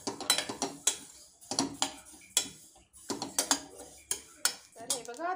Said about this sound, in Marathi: असा थोडा आवाज आला तीळ भाजण्याचा